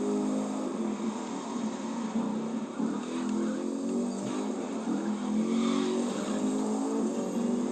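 A hypercar in the racing game The Crew 2 speeds along with a continuous engine whine and sliding tire noise, held at a steady level without speech.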